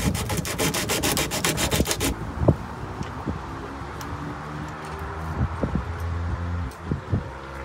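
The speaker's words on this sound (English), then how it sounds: "So what we're gonna do under here is strip off the paint." Paint scraped off a metal antenna mount plate on a car's boot, starting with a fast rhythmic rasping scrape for about two seconds, followed by scattered clicks, knocks and quieter rubbing.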